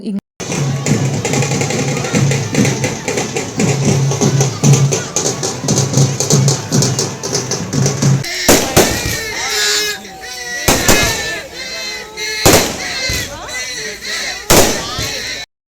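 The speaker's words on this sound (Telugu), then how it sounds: "ఇలా క్రాకర్స్ అన్నీ కాల్చుకుంటాము మేము పండగ అయిపోయాక" Firecrackers burst at a village festival after prayers. A dense, loud crackling string runs for several seconds, then single sharp bangs follow at intervals, with voices in the background.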